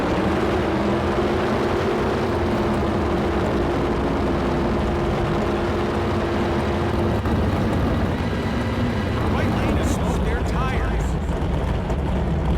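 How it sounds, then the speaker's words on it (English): Drag racing car engines roar down the racetrack in a drag race video game, a loud, sustained engine drone that holds steady before shifting into a harsher, rising howl, with a voice talking faintly over it. "it's just about time to see those engines scream down the racetrack"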